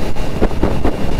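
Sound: strong headwind blowing during motorcycle ride

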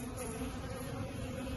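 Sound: bees buzzing in an opened beehive

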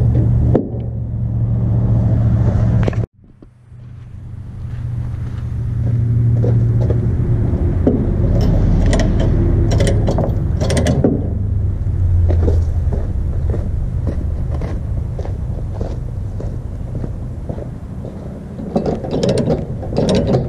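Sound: ratchet strap being tightened down on a trailer

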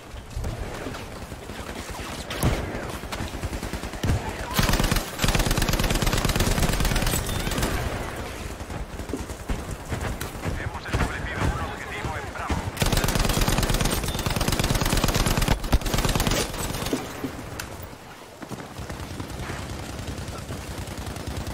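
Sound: gunfire in the video game Battlefield V

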